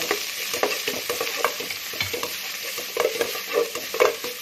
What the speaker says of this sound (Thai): กระเทียมกับรากผักชีนะใส่ลงไป เจียว